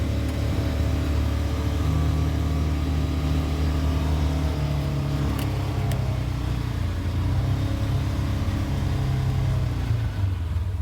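A Polaris Ranger UTV fitted with a Boss plow drives from asphalt onto gravel, its engine droning steadily and loud throughout, with a rumbling undertone from the rolling tires.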